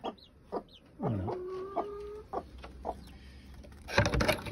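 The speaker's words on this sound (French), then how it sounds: "Et dès qu'on l'ouvre, il y a des poules dedans." Hens kept in a small enclosure cluck in short, separate bursts, with one drawn-out call in the middle and a louder flurry of clucking and rustling near the end, all fairly close.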